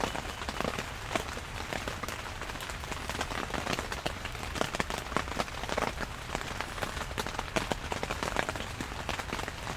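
Rain falls steadily on surfaces, a dense patter of close drops with sharper individual splats scattered throughout at a soft, even level.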